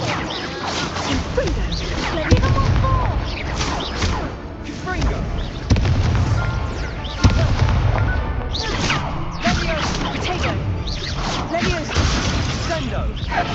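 Confringo fire-spell blasts and combat impacts from the Hogwarts Legacy video game, a run of loud bursts and thwacks mixed with game music and a player shouting spell names.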